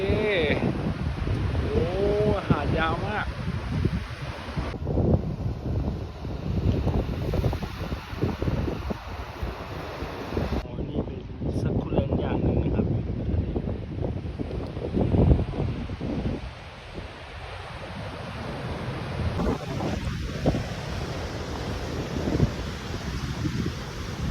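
Wind gusts buffet the microphone along a Thai sea shore, a steady rushing roar with waves and surf blended underneath, loud and continuous with brief lulls and a voice talking at the start.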